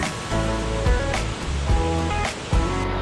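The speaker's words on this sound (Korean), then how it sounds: "이 흘러내리는 물이 연화폭입니다" Water rushing down a mountain waterfall on Deogyusan in Korea, a continuous loud roar of flowing water with a few brief bursts of splashing.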